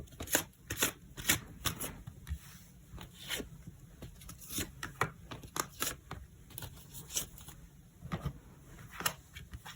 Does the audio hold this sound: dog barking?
no